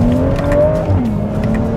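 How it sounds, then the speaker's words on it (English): A 2007 BMW 335i Touring's twin-turbo engine heard from inside the car on an upshift: a steady, loud drone whose pitch dips and levels out, with no talking. "Oh, that sounded nice on the upshift."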